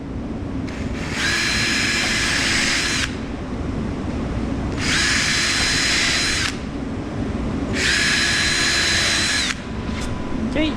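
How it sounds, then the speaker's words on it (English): A power drill bores holes into a wooden tote storage rack in three loud, close bursts of about two seconds each, separated by short pauses of quieter handling. "Grab our drill and move it over."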